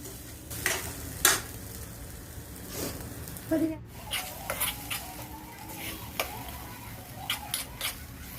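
Eggs roasting with masala in a pan and being stirred, heard as a soft sizzle under scattered scraping and tapping strokes of a spoon against the pan, close and fairly quiet.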